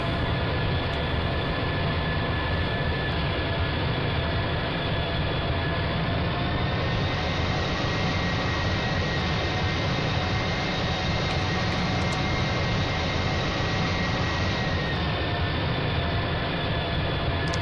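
Airplane from the GeoFS flight simulator game cruising on approach with the gear down and the flaps out, a steady, loud, unbroken engine and air roar that holds level throughout with no talking.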